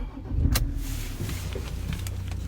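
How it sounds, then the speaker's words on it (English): A 2016 Ford Ranger Wildtrak with a 3.2 TDCI diesel starts up with a sharp crank and catch, then settles into a steady, close diesel idle. "Right, there is one key with this one. Let's start it up."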